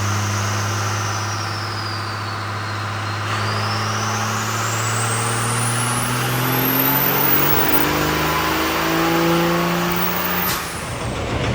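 A diesel truck with a Scheid stage 2 tuned VP44 injection pump revs hard on a dyno, a loud close engine roar climbing steadily in pitch for about ten seconds before abruptly dropping off.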